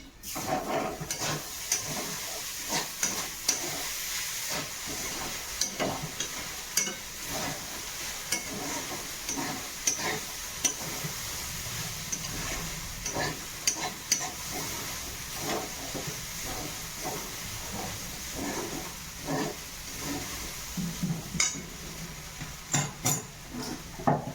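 Poha sizzling and hissing in a pan while a spoon stirs it, steady frying noise broken by frequent scraping and clinking strokes against the pan, close and continuous.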